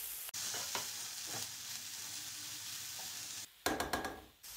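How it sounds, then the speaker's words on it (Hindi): Onions for a samosa filling fry in a pan with a continuous close sizzle, broken by a few stirring scrapes and sharp crackles toward the end. "हम प्याज डालने के बाद 3 से 4 मिनट पका लेंगे"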